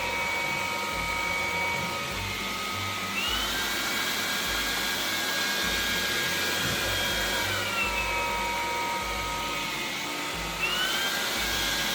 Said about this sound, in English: it will automatically increase its suction when it detects carpet